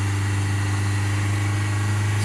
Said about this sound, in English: I'm dropping the revs a little bit.